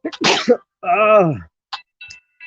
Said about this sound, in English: damn, that was a good sneeze, though.